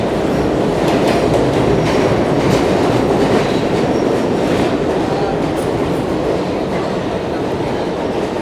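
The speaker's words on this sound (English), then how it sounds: "That's an R train, Broadway local." An R train, the Broadway local on the New York City subway, rumbles through Times Square–42nd Street station with a loud, continuous roar of wheels and rhythmic clicking from the rails throughout.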